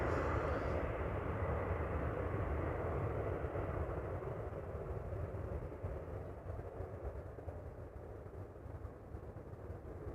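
An airliner departing a runway at Amsterdam Schiphol Airport gives a steady broad jet roar that holds strong and then slowly eases, heard from a distance with no talking.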